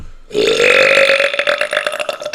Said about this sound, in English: Oh wait, it's just one burp?